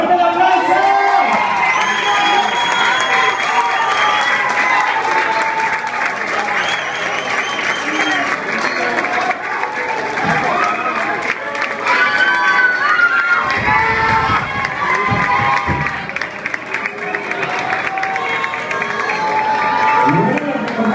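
Loud, sustained applause and cheering from an audience at a regional salsa dance competition awards ceremony, with shouts and whoops over continuous clapping and voices mixed into the crowd noise throughout.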